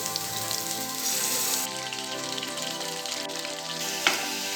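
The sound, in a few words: raw jackfruit pieces frying in hot oil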